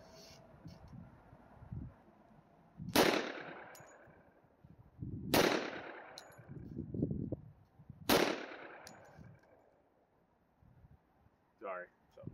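Three loud handgun shots ring out at an outdoor shooting range from 7 yards, evenly spaced a few seconds apart, each sharp crack followed by a rolling echo, with a person speaking between them.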